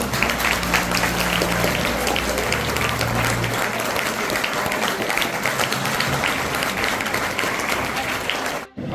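Applause from students and staff at a school farewell ceremony in Bhilvan village, a dense steady clapping that fills the room for about nine seconds, with a low hum beneath the first few seconds, then cuts off abruptly at the end.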